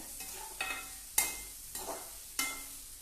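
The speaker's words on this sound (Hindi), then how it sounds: "इधर मैं ये जो छुहारा, नारियल और खोया है इसे भी भून रही हूँ।" Dried dates, coconut and khoya are roasted in a pan while a spoon stirs, with four sharp scraping knocks spaced about half a second apart over a low, steady frying hiss.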